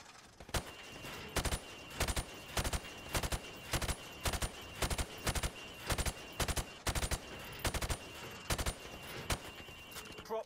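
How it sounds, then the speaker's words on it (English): Rifle gunfire in the video game Modern Warfare Remastered, aimed at pop-up targets through wood, sounds as a long run of loud, evenly spaced shots in short bursts over a steady background hum. "I want you to shoot the targets through the wood."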